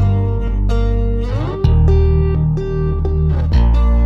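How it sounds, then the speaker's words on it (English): Guitar and bass play in a future bounce track, loud sustained chords ringing over a deep bass line, with the harmony shifting sharply about halfway through and again near the end. "I recorded the guitar and added bass."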